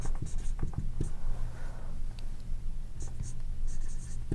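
Pen strokes scratch across paper during a Class 8 maths lesson on mensuration: close, dry, scratchy bursts of writing come in quick irregular runs with brief pauses between them.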